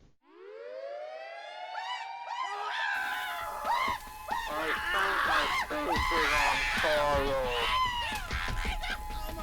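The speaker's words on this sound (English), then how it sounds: "If attack is imminent, you will hear the attack sound like this." An air raid siren winds up into a rising wail, then keeps sounding beneath a chaotic clamor of honking and shouting voices.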